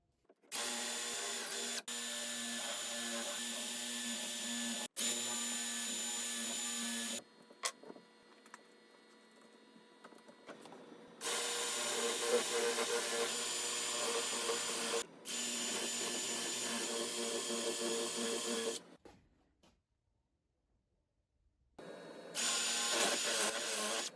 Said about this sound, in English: then I used the same incremental drilling procedure that I did before